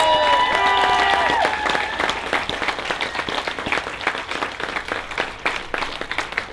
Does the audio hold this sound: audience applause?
yes